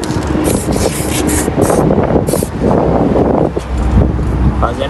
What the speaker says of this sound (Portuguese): Ó, é muito vento